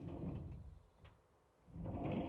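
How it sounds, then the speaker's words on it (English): A sliding barn door in an RV bedroom rolls along its track with a low rumbling scrape, close and fairly quiet, fading briefly before a second rolling pass. "So this is a barn door."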